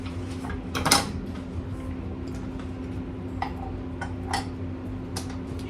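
A stand mixer blends dry biscuit baking mix with a steady, low electric motor hum, while soft ticks and a few clinks of the beater against the bowl sound throughout.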